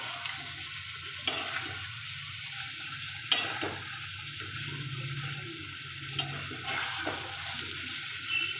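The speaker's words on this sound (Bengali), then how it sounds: "এবার ভালো করে নাড়বো আলুর দম।" Stirring potato curry (aloo dum) in a pan at home, a steady soft scraping and sizzling with a few sharper clinks of the spoon against the pan.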